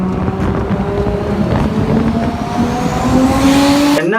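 A Nissan car engine revs hard up close, its pitch climbing steadily under acceleration with wind buffeting the microphone, before cutting off sharply at the end.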